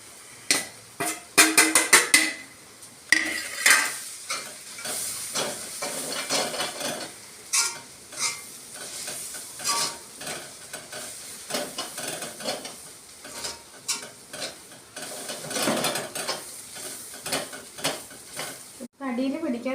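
Roasted crushed coconut being stirred into a pan for a coconut chicken dish, with a steady sizzle and repeated scraping strokes of a utensil against the pan, close and fairly loud, plus a few clinks of metal.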